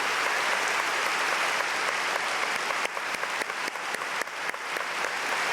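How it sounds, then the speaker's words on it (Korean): Warm applause from a church congregation during a Sunday praise service, a steady wash of many hands clapping that grows more distinct and punchy toward the end. "한번 뜨거운 박수로 격려해 주셨으면 좋겠어요"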